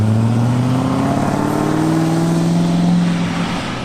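A loud turbocharged car engine roars close by, holding a strong, continuous drone as its pitch rises gradually, then eases slightly at the end.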